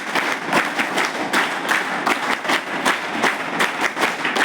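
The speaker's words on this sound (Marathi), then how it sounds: "माझ्यासाठी तर वाजवाच लागतील तुम्हाला" A hostel audience breaks into sustained applause for the speaker, many hands clapping in a thick, even roar with crisp nearby claps punctuating it, loud and steady from start to finish.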